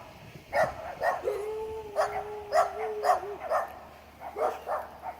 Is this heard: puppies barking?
yes